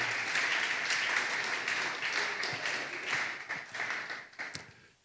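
Church congregation applauding steadily for several seconds, a dense wash of many hands clapping at close range that thins out toward the end.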